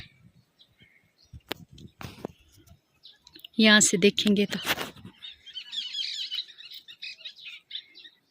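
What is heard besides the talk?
birds chirping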